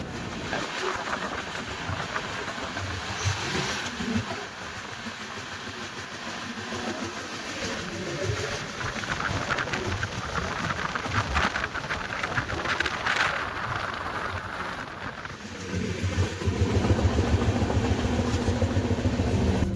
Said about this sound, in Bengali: ট্রেন মোকামাতে এসে পৌঁছেছে মোকামা ছাড়লো